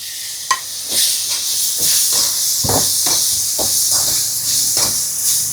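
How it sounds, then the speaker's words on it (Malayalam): Tomatoes go into a hot pan of sautéed masala and sizzle with a loud, steady hiss, broken by repeated scraping stir strokes, with no voices. "തക്കാളി അങ്ങോട്ട് ഇട്ട് കൊടുക്കാം."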